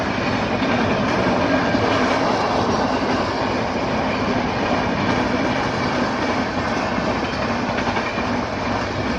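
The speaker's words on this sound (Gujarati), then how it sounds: "અહીંયા મિત્રો રેલગાડી વટવાની છે" A train rolls past a railway level crossing near Tuva, a loud, close and continuous rumble with clickety-clack wheel rhythm that holds steady throughout, with no voices.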